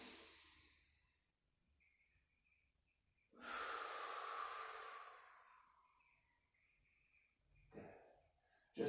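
Breathing in and out during a low abs and hip opening exercise routine: a close, airy exhale swells for about two seconds midway, with softer breaths before and after.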